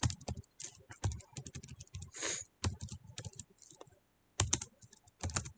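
Bursts of clicky keystrokes on a computer keyboard, typed in quick uneven runs with short pauses between them, close and clear with no talking.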